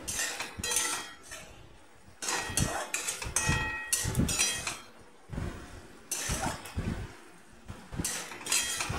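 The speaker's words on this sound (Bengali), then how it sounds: "এবার একটু খুন্তি দিয়ে সামান্য নাড়াচাড়া করে নিচ্ছি উপর নিচ করে" A metal spatula scrapes and clinks against a pan while spiced vegetables, kachu lati (taro stolons), are tossed and stirred, in repeated bursts of clattering strokes with short pauses between them and no talk.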